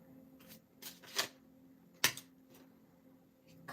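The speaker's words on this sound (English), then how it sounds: "Shuffle and pull again." Tarot cards being shuffled in short bursts of soft riffling and flicking, quiet and close, with a few sharper slaps of the deck between pauses and no talking.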